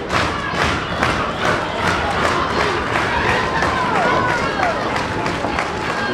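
Wrestling crowd at a televised JCP match cheering and roaring steadily throughout, with thuds from the ring and an excited commentator talking over the noise.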